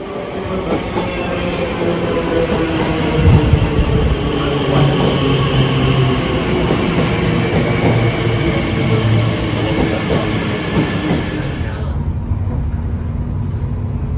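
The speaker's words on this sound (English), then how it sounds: "We're at the train station." A train rumbles steadily nearby at a London station, with rhythmic wheel clatter and faint metallic squeals, then the noise drops abruptly near the end.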